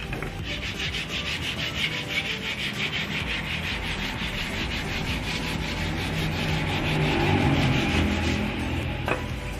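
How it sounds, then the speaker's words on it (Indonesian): Wood being sanded by hand with sandpaper for a meatball cart, a steady scratchy rubbing in quick even back-and-forth strokes, close and continuous throughout. "mengamplas kayu ya. Jangan kecil."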